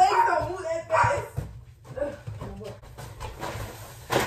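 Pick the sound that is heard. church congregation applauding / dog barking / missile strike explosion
dog barking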